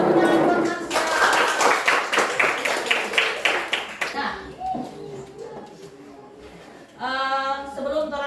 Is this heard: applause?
yes